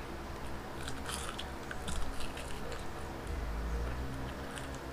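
Crunchy biting and chewing of spicy fried chicken neck from Chooks to Go, close and fairly quiet, with irregular crisp crackles over a soft room background.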